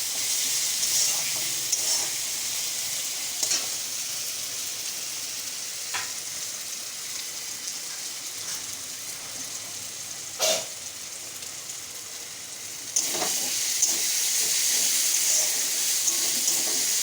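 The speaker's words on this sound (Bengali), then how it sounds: "দিয়ে একটু ভালো করে ভেজে নেব আদা রসুনটা" Ginger and garlic fry with onion in a pan, giving a steady, close sizzling hiss. Occasional soft clicks of stirring come through, and no one speaks.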